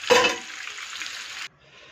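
Stuffed meatballs browning in a pan give off a steady close sizzle that starts with a loud burst, holds at an even hiss, then cuts off abruptly to a faint residual crackle.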